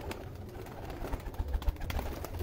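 Old teddy pigeons cooing in a loft, low soft murmuring calls repeating over a rustling background, with a few louder flutters or knocks near the end.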